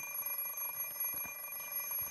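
An alarm clock in the Fate/stay night visual novel game rings in a steady, continuous high electronic tone that stays at an even, fairly soft level throughout, with no speech.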